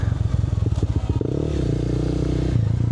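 Motorcycle engine running steadily during a night ride, a loud close drone with a lower, rising pitch after a brief clattery patch.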